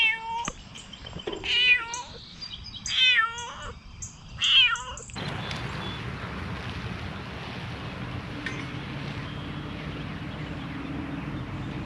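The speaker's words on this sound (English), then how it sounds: "there's a kitty." A cat meows three times in quick clear calls, close by on an outdoor bike trail, followed by steady wind noise.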